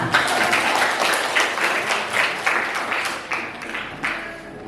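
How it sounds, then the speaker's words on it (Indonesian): A class of ninth-grade students applauds in a classroom, a lively burst of many hands clapping in uneven waves, fairly close and without speech. "Sekali lagi kita tepuk tangan yang meriah"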